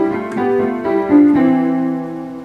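Both hands on a piano sound a harmony pattern, chords struck a few times in succession and left ringing, close and moderately loud with no talking over them.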